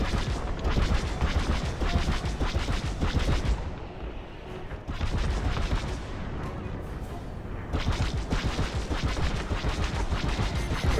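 Rapid starfighter weapons fire in Star Wars: Squadrons, a dense stream of blaster bursts and impacts that is loud and continuous, briefly thinning in the middle before resuming at full intensity.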